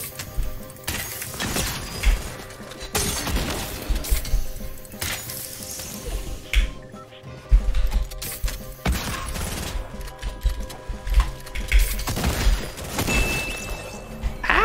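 Gunfire in the Fortnite video game: bursts of rapid shots and scattered single cracks recur throughout, loud and close, mixed with clinks, impacts and other game sounds.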